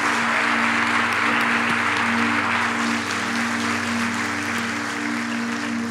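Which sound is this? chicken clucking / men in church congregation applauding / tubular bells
men in church congregation applauding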